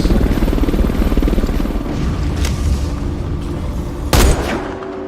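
Helicopter rotor drone in a Metal Gear Survive video game cutscene, loud and steady throughout, with sharp gunshot-like cracks near the middle and toward the end.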